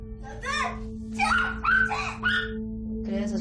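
A dog lets out several short, high yips and barks in quick bursts close by, over a steady electrical hum.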